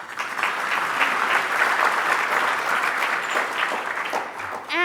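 Sustained applause from a gala audience, a dense steady wash of many hands clapping at once, loud and continuous for several seconds before tapering off at the end.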